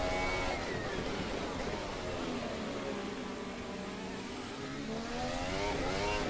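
A Formula 1 car engine in a sim racing video game rises and falls in pitch as it accelerates and shifts, a loud, continuous whine with no pauses.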